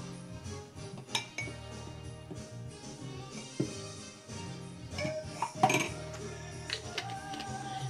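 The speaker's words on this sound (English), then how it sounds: "Mix that all up in the cup." A spoon stirs a homemade vanilla hazelnut hot chocolate mixture in a cup, giving steady soft scraping with scattered bright clinks against the sides. It runs continuously and close, with no talking over it.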